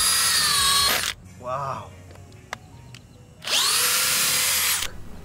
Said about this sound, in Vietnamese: Giờ chúng ta sẽ test bắn vít ha. Một con vít 10 ly đầu D và bắn tốc độ số 2 trước.